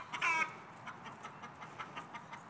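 A hen gives a short burst of clucking at the start, followed by softer, scattered clucks over a low background hum.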